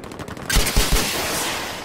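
Anti-aircraft gunfire in Battlefield V bursts out in three or four heavy, rapid booming shots aimed at aircraft, loud and close, followed by a lingering rumbling echo with no talking.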